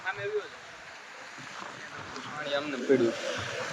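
Wind and surf roar steadily along the rocky seashore at Mahuva, a broad wash of waves and gusts that stays up close while people talk over it.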